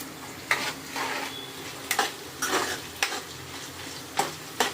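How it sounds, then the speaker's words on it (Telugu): Tempering spices sizzle in hot oil in a pan for a festival offering, with a constant crackling fry broken by sharp, repeated spoon scrapes and stirs, close and clear with no talking. "మనకు తాలింపు వేగిపోయింది కరివేపాకేసేద్దాం"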